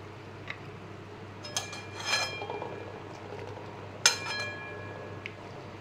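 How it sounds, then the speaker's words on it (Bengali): A spoon stirs a milk mixture in a metal pot while making mishti doi, giving a few sharp metallic clinks and scrapes against a quiet background. "এখন ভালো করে মিশিয়ে দিচ্ছি।"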